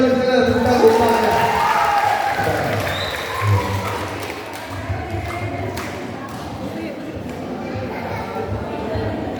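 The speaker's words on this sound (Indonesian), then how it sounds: "Ya tepuk tangan dari sana, tepuk tangan." Audience applause at a GBKP church choir competition results announcement, a dense patter of clapping from a mixed crowd that starts strong and gradually thins out, with some voices and thumps in the room.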